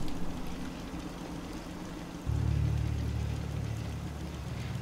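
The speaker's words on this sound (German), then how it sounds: "Es regnet, es regnet." Steady rain hiss in the video game Fallout 4, a constant wash of drops that thickens into a louder, fuller downpour about halfway through, with no voices.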